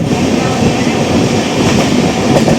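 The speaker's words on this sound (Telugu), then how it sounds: "మన ట్రైన్ కూడా కొంచెం క్రూజింగ్ స్పీడ్ అయితే పికప్ చేస్తుంది" The Kanyakumari Express runs at speed with a loud, continuous rumbling roar and faint rhythmic wheel clatter from inside the carriage.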